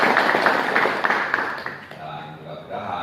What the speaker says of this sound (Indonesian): Tepuk tangan dulu kita semuanya.